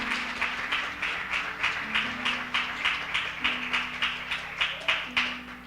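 A church congregation claps in a steady rhythmic beat, about three claps a second, over a soft sustained musical tone, fairly quiet and without speech.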